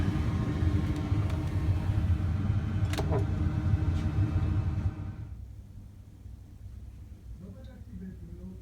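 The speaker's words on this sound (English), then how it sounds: "That's the restaurant down there, and that's the extractors for the restaurant." A steady low mechanical hum of a hotel restaurant's kitchen extractor fans drones from outside, loud at first then dropping to a fainter background rumble.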